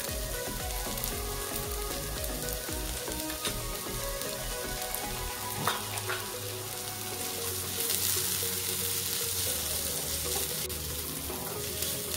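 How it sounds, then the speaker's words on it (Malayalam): Crushed ginger and garlic hit hot oil with golden-fried onions in a pan for an egg curry. They give off a loud, steady, close sizzle with a brief utensil clink midway and no talking. "വെളുത്തുള്ളി ചതച്ചത് ഇട്ടു."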